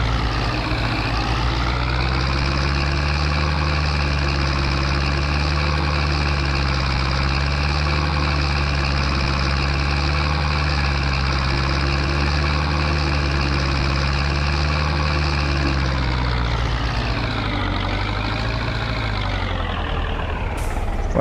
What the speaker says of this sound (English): this tractor does not like to get going very easily.